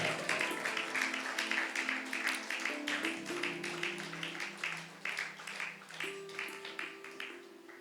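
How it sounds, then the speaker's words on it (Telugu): A church congregation claps hands loudly in a steady, even rhythm, with a keyboard melody playing underneath. "గట్టిగా చప్పట్లు కొడదాము"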